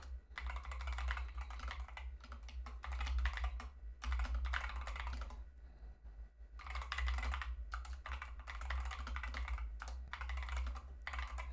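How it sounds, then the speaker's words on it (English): Rapid typing on a computer keyboard, steady clacking keystrokes in long runs broken by brief pauses, close and clear over a low hum. "Okay, hold on. I'm typing it out."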